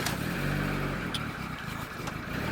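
A turbocharged Honda Civic engine cranks and catches, then settles into a loud, steady running rumble close by, with no one talking over it.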